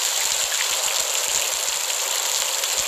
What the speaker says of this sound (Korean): 비 효과와 오디오 효과 이걸 결합시켰어요